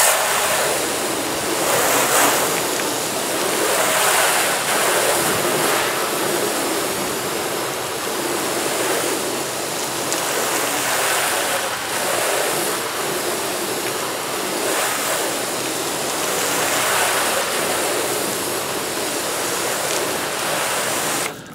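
A steady, close hose spray of water rinsing soap off a car panel, loud broadband hiss with slight surges in intensity, continuing for about twenty seconds with no speech.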